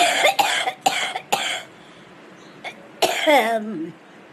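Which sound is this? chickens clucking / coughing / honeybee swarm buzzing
coughing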